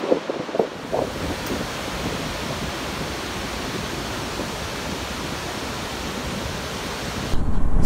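Barachukki waterfalls in South India, a steady, loud broadband roar of falling water that holds evenly throughout, with a brief rise in level near the end and no speech.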